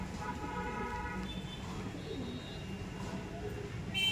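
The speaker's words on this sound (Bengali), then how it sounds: "ম্যাড্রাসি পায়রা" Madrasi pigeons coo softly in a steady low murmur, with faint chirps and a bit of background noise over the few seconds.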